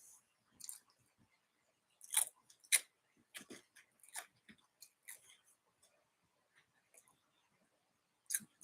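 Crunchy garlic bread being chewed close to the microphone, with scattered sharp crunches and bites separated by quiet pauses, no talking over them.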